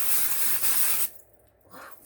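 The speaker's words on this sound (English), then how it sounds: "It's really good, but it's an aerosol setting spray" An aerosol setting spray hisses in one loud, close, continuous burst lasting about a second, then stops, and a faint rustle follows.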